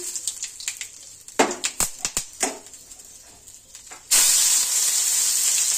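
Bay leaf and whole garam masala spices hit hot oil in a pan, bringing a few sharp crackles and pops before a loud, steady frying sizzle swells up and holds to the end.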